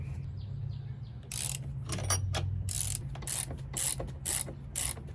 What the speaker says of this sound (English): So you just get a deep socket in the bottom and then hold it up top.